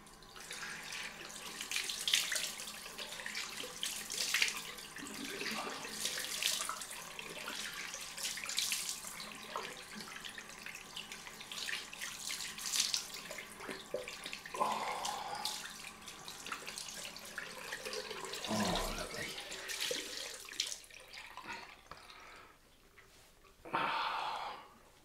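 Cold water runs steadily from a bathroom tap into a sink for a rinse during a straight-razor shave, a continuous close hiss with splashing variations, ending with a brief burst of spray.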